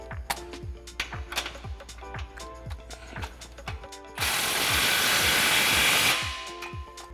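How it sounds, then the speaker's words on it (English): A ratchet tightens the clamps on a pair of exhaust tailpipes with steady, rapid clicking close by, broken midway by a loud, sustained hiss that lasts a couple of seconds before the clicking resumes alone. "So now we can go ahead and tighten down our clamps on our two tailpipes."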